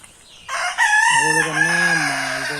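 A rooster crows loudly and close, one long drawn-out call that rises and then holds before fading.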